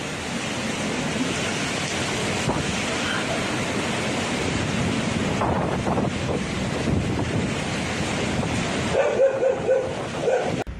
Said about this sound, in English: The port was lashed by record gusts exceeding 220 km, 137 miles per hour.